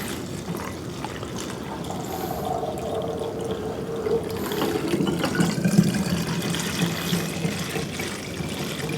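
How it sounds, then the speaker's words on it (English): Homemade apple pie infused whiskey pours steadily into a bottle, a continuous close liquid trickle and fill that swells slightly midway, with no voices. "So let's fill our bottle up."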